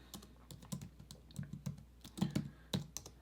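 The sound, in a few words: typing on computer keyboard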